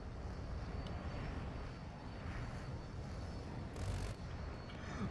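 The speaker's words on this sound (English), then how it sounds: "I got Jet, Noah." A jet aircraft in the Battlefield 2042 video game roars in a steady, moderately faint broadband rush, with no voices over it.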